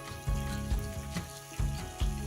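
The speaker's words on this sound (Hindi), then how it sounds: "और इसको 1 से 2 मिनट के लिए फ्राई करेंगे।" Chicken frying with masala in a pan gives a close, continuous sizzle broken by a few heavier thumps and stirring bursts.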